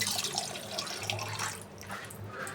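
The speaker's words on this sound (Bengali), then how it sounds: "ভালোভাবে ধুয়ে নিই, পরিষ্কার করে নিই, 3-4টা ধোয়া দিব" Beef tripe being rinsed under a running kitchen tap, a steady close hiss of flowing water splashing into a sink, with no talk.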